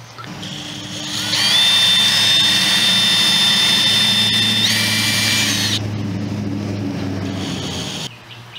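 Two screws driven into a wooden stake with a cordless drill at an outdoor brick-laying site, one long steady high whine that shifts pitch partway through, loud and close over a continuous low background rumble, then stops abruptly.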